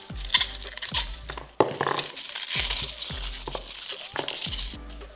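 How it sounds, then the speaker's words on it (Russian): Coarsely cut cabbage pulled apart by hand, giving close, crisp crackling and snapping of leaves with a few light clinks, continuous and uneven, with no speech. "Дальше мы сразу капусту разбираем."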